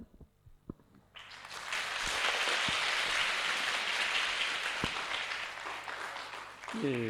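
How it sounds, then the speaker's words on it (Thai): Audience applause at a provincial community event in Kamphaeng Phet, Thailand, honoring a young performer: a broad wash of clapping swells in after a quiet start, holds steady for several seconds, then fades. "ปรบมือให้เจ้าวิทยอีกครั้งครับ"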